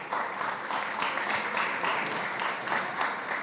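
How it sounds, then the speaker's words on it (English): Audience applause at a food and health summit, steady dense clapping that carries evenly through the whole stretch at moderate level with no voices over it. "Please give him a round of applause."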